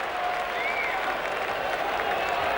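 Cricket crowd at the Sydney ground applauding during a one-day international, Australia versus New Zealand, a dense, steady wash of clapping and crowd noise heard from a distance, without speech.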